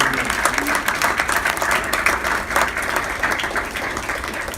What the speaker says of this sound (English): I think you all deserve a round of applause for all the work that